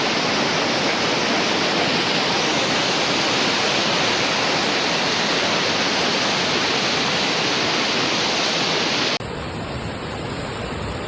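The flooded Kalu River pours over a waterfall, roaring continuously, a dense, loud rush of heavy water that stays steady throughout before dropping off sharply near the end.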